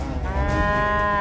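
A water buffalo moos loudly and steadily close by, one long drawn-out call with a clear tonal, harmonic ring, from a herd whose calf has fallen into a roadside drain along its daily crossing route.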